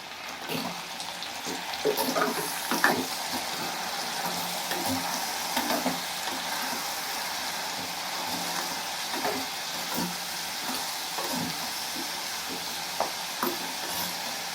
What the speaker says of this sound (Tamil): இதை மாதிரி நல்லா பூண்டெல்லாம் எண்ணெயில் வேகும்